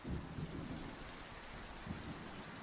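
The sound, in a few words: rain pattering against a tent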